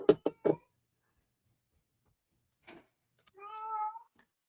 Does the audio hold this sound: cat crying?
yes